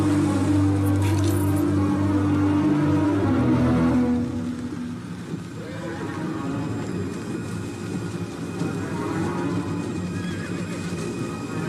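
Horse whinnying loudly and close, a long wavering neigh over the first few seconds, then fading into a low continuous rumble of background noise.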